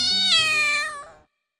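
A single loud, close cat meow, drawn out and slightly falling in pitch, ending abruptly into silence.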